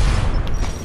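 A loud, deep boom from an explosion in Fortnite Creative, a single heavy low rumble lasting under a second.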